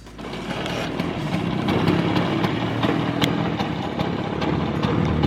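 A Vespa scooter engine runs close by with a steady, loud, rattly idle and a busy mechanical chatter, with no speech over it.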